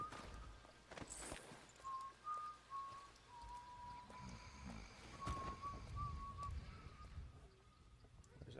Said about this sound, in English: There's that guy whistling.